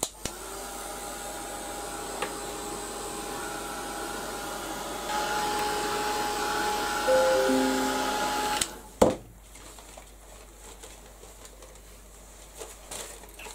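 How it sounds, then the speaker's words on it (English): A heat gun blows hot air over a freshly made craft piece, a steady loud whoosh for about eight seconds that cuts off with a click, leaving quiet room tone. "I'm just going to give this one a quick blast with the heat gun"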